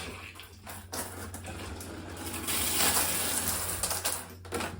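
Shower water runs steadily after the supply is turned back on during a repair of a snapped shower handle, a broad continuous hiss and spatter that swells louder partway through, with no talking.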